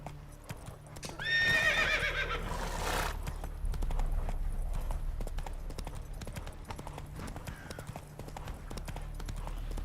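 Roach the horse in Witcher 3 gallops with rapid steady hoofbeats and lets out a loud, clear whinny near the start, with the hoof rhythm carrying on underneath through the rest.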